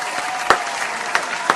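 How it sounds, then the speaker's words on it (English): Sparse clapping for a round of applause, a few scattered sharp claps over a steady noisy background, brief and moderately loud. "Round of applause to you"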